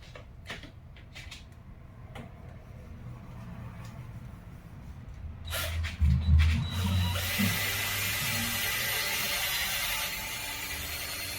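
A cordless drill fitted with a polishing pad works on the headlight of a VW Jetta/Golf Mk4. Faint handling clicks come first, then the motor spins up to a loud, steady whine that holds to the end.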